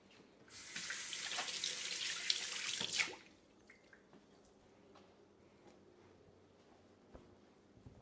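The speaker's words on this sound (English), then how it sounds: "I'm gonna just rinse my hands really fast." Hands rinsed under a running kitchen tap while baking chocolate chip cookies: a loud, steady splash of water for about two and a half seconds, then the flow cuts off, leaving faint drips and small handling noises.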